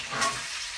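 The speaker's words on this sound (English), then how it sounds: "I'm going to let these simmer for at least another maybe 15 minutes until the bacon gets really crisp" Bacon simmering and frying in a pan over a camp stove, a soft, steady crackling sizzle that holds through the short moment without any talk.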